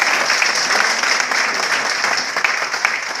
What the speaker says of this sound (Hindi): जोरदार ताली बजाइए यीशु मसीह के लिए